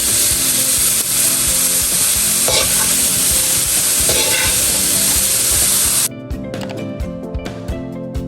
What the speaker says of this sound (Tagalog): Akin po nga haluin.